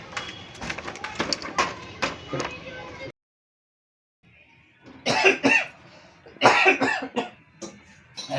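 A man coughs repeatedly in a harsh, close burst, then after a short silence coughs again in loud, separate hacks.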